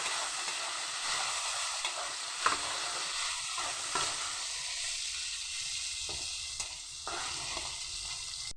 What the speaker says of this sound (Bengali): এগুলো দিয়ে দিয়েছি কড়াই, এবার ভালোভাবে ভেজে নেব।